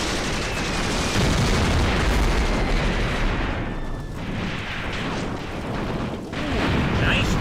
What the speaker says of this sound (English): Armor piece is managing to fire. Saw some rounds going over